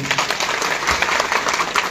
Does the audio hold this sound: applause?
yes